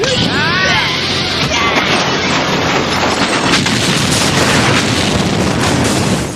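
A loud, dense explosion of a fuel stockpile in the Kamen Rider Kuuga series, a roar with crashing debris and rumble filling the whole stretch; a whistling swoop is audible near the start.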